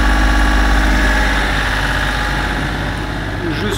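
The inboard engine of a sailboat drones steadily while motoring solo across the Bay of Biscay, a loud, continuous low rumble with a constant mechanical throb and no pause.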